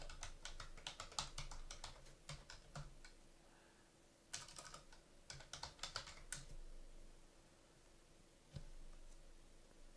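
Someone types an email address and password on a computer keyboard, producing irregular bursts of quiet key clicks separated by short pauses, close and alone with no voices.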